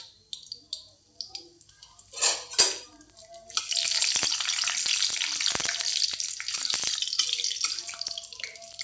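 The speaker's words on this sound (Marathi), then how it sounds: "तेल आता छान गरम झालं आहे यामध्ये मी लवंग मिरे आणि दालचिनीचा तुकडा टाकते" Cloves, black peppercorns and a cinnamon piece dropped into hot oil while making chole, giving a steady close sizzle and crackle that fills most of the clip after a few brief clatters and clicks.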